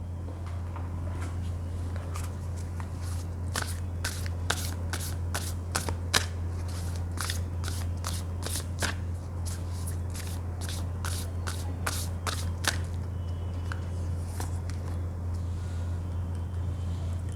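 A deck of tarot cards is shuffled in repeated quick riffles, crisp flicking bursts close by over a steady low hum. The shuffling runs through most of the stretch before tapering off near the end.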